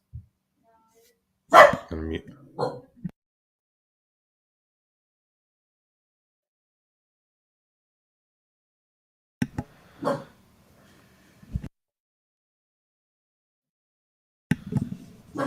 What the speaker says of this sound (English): there's people outside the door, so the dogs are going to bark